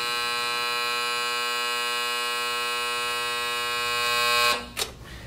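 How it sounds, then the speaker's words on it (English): A MET30+ metal detector sounds a steady, loud buzzing reject alarm with a strong tonal hum after wet, thawed product passes through, then cuts off abruptly and leaves a short burst of clatter and noise. "because it's wet, set off the alarm and caused a false reject"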